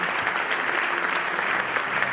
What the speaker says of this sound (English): Give all of our winners a nice big round of applause, ladies and gentlemen